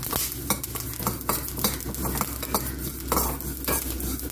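Ingredients for vendhaya kuzhambu, tomatoes among them, fry in a pan with a steady close sizzle, interrupted by repeated scraping and stirring strokes of a utensil against the metal.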